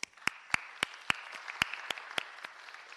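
Scattered applause at a board meeting: about a dozen sharp, distinct hand claps from only a few people, irregularly spaced and thinning out toward the end in a quiet room.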